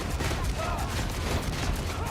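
Rapid gunfire from a magazine being emptied in the video game Darktide, a dense unbroken barrage of shots over a busy game mix for the whole stretch, with a voice faintly present.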